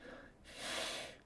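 A person imitates a dog panting with a single breathy, rushing exhale, close and fairly quiet, in a talk about how brass players and opera singers breathe.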